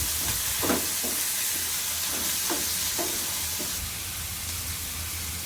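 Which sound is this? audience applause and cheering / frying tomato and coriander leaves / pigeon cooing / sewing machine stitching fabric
frying tomato and coriander leaves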